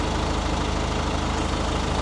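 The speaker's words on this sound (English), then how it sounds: "Here's the old tractor." Old tractor engine idling in a horse arena, a steady low chugging with even rapid knocks, close and continuous.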